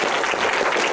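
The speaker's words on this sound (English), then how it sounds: "One more round of applause for David." An audience at a Mars lecture at Moffett Field applauds with steady, dense clapping throughout the short moment.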